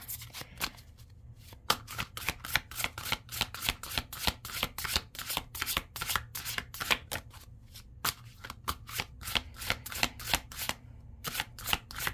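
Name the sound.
shuffling cards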